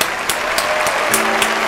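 A short burst of dense clapping from a small group plays in a home-invasion horror game, a brief, fairly loud patter of hands with no voices over it.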